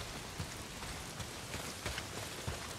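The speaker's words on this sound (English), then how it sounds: "Well, not if it's pissing down rain." Steady rain falls in the open-world game Days Gone, a dense, even hiss of drops on surfaces with occasional heavier spatters, filling the whole stretch without any voices.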